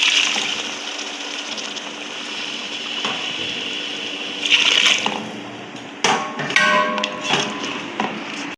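Hot water pours steadily onto bulgur kibbeh dough mixed with paste, rice flour and onion, a continuous close trickle lasting several seconds, followed near the end by a few light clinks and splashes as the flow shifts.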